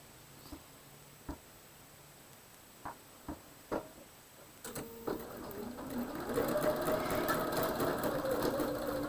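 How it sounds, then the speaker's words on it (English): A home sewing machine stitches quilt block pieces together for a Double Dutch block, beginning with a few isolated clicks and knocks before settling into a steady, close running whir. "now I'm going to sew those together"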